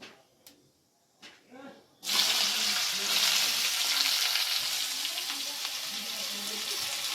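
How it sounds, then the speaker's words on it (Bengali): Bitter gourd and potato hit hot oil in a pan with a sudden loud, steady sizzle that keeps going, after a few brief clinks and faint sounds at the start. "এই উচ্ছে আলুটা ভাজা করে নেবো।"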